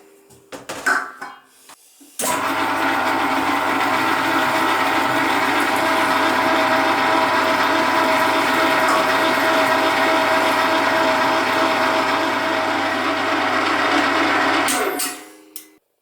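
An electric meat grinder makes a second pass through bratwurst meat for Thüringer-style sausage, a loud, steady motor drone with a constant low hum lasting about twelve seconds before winding down, preceded by a few handling knocks.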